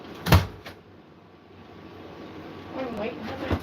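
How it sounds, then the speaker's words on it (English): A door opens with a sharp thump and a softer follow-up knock, then a quiet stretch and a muffled rustle near the end, all close by. "Tried to open the door again and it's way warmer outside."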